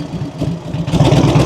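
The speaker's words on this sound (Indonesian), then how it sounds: "emang enak banget ya nih motor suaranya" A 1982 Harley-Davidson Tour Glide engine rumbles nearby, then swells into a louder, throatier rev partway through, with no talking.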